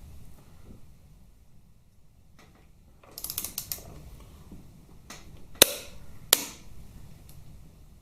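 A wrench torques a bolt on a Harley Twin Cam 88 engine, with soft ratcheting clicks followed by a couple of sharp metallic snaps in a quiet workshop.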